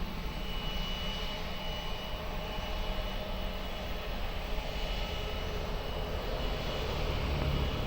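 An Airbus A320 on its takeoff roll at Lisbon Airport gives a steady, broad jet-engine roar that holds evenly throughout at a moderate distance.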